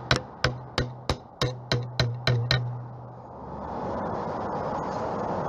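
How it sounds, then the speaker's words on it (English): A metal scraper wedged under a glazing-bead pin on an outdoor window frame is struck with light taps: about nine sharp, evenly spaced clicks close by, followed by a few seconds of soft rustling hiss. "So with a gentle tap,"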